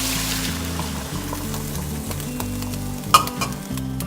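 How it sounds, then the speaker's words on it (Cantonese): Chicken with onions stir-fried with curry in a pan just as a cup of water goes in, giving a continuous sizzle with stirring scrapes and a sharp splash near the end, low background hum and no talk. "我哋稍微炒香佢啦，落1杯嘅水啦"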